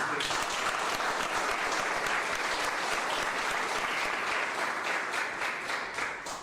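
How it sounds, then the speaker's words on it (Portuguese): Workshop audience applauding José Nilton as he is introduced, a dense steady wash of clapping from many hands that holds evenly throughout and tapers slightly at the end. "Uma salva de palmas, José Nilton."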